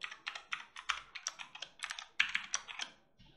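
Quick, steady typing on a computer keyboard, close and fairly quiet, a run of crisp key clicks ending in a pause and one last faint tap.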